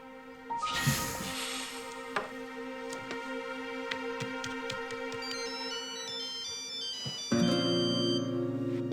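A mobile phone ringtone plays a bright repeating melodic pattern of quick electronic tones, fairly loud and close, continuing for several seconds and shifting to a lower buzzy phrase near the end.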